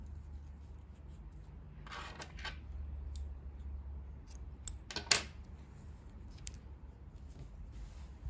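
Scissors snip through pink yarn during a crochet project for a baby romper, giving a couple of short, close crisp cuts over a quiet room hum.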